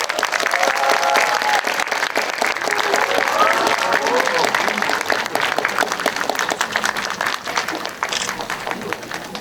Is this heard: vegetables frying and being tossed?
no